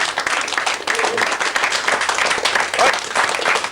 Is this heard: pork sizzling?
no